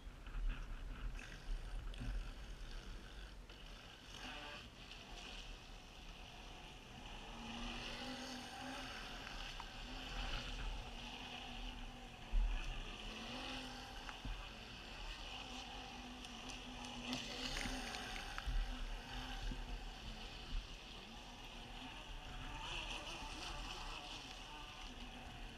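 A Neptune RC boat runs steadily around a tight indoor pool, its motor giving a continuous buzzing whine with splashing water, fairly constant in level for the whole stretch with small surges as it turns.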